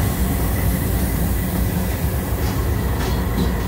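Norfolk Southern 309, a freight train led by BNSF, KCS and CP locomotives, rumbles past close by as a steady, loud roar of wheels and rail noise with faint clickety-clack throughout.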